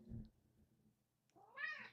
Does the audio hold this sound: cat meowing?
yes